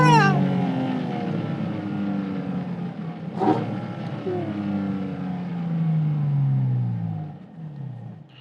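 A Porsche Cayman GT4 RS engine runs at low revs, a smooth droning hum that rises and falls gently with one brief sharper blip midway, close and steady without talk.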